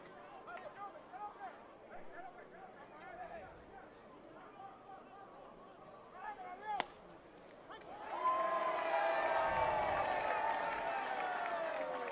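A baseball crowd at Welland Stadium on a Tuesday night, Welland Jackfish against the Hamilton Cardinals, murmurs under a commentator's voice, then swells into loud sustained cheering and clapping after a sharp crack midway.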